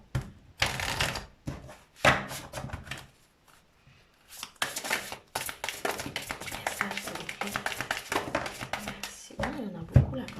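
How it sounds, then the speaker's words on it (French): Archangel Michael oracle cards are shuffled and drawn by hand, producing rapid papery riffling bursts and taps, close and fairly quiet, with short pauses between runs. "Je vais vous tirer une carte de l'archange Michael"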